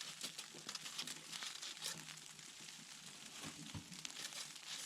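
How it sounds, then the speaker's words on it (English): Tin foil crinkling on a wood burning stove in a hot tent, a continuous faint crackling rustle with scattered sharper crinkles, close and without talk. "Tin foil on my wood burning stove."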